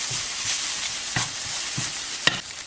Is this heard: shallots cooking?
yes